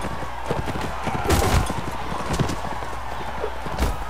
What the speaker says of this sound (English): Horses blocking my way.